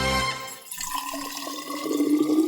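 Water streams into a mate gourd packed with fresh yerba, a close liquid pour with bubbling and trickling that grows steadily fuller and louder toward the end.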